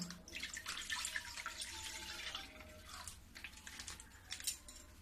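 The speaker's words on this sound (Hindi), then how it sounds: "अब मैं इसी में आधी किलो दूध डालूंगी।" Half a kilo of milk poured into a wok, a soft, faint splashing stream that runs for a few seconds with small uneven gurgles, alone without speech.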